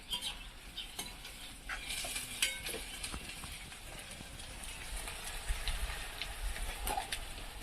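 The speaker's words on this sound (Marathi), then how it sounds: "हे बघा कांदा तेलामध्ये लवकर झाला पाहिजे" Chopped onion frying in hot oil in a home kitchen, a soft continuous sizzle with occasional stirring scrapes and clicks close by, no talking.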